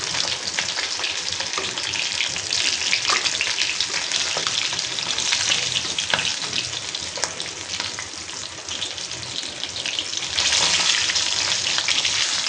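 Tilapia fish deep-frying in hot oil, a loud continuous crackle and sizzle close by with sharp pops throughout, swelling louder near the end, no voices.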